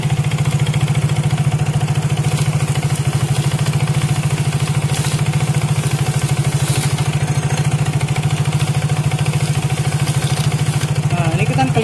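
A scooter engine idling steadily while serving as a makeshift lathe for sanding, giving a loud, even mid-pitched hum with a constant rhythmic pulse and no speech over it.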